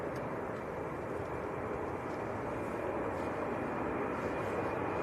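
A Ryanair airliner at Manchester Airport accelerates down the runway on its takeoff roll, giving a steady, broad engine roar that holds loud and even throughout, with wind noise and no speech.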